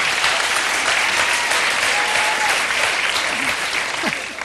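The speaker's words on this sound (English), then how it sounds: "you're applauding for the dog's birthday" Studio audience applauding on a 1980s late-night television talk show, a dense, steady wash of clapping that stays loud throughout the clip and tapers off only slightly near the end.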